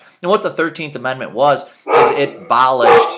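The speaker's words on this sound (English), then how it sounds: "That's my dog." A big pet dog barks a few loud times close by, the barks mixed in with and cutting across someone talking.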